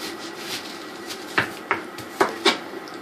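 Kitchen knife slicing a peeled, trimmed onion in half on a cutting board: a few sharp, separate chopping knocks spaced about a second apart, close and fairly quiet, with no talk.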